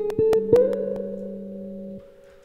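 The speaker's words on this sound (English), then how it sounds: "the next track is actually my real electric guitar, and it sounds like this" A few plucked electric guitar notes ring out, then a single sustained tone holds steadily before fading, played alone and fairly quiet.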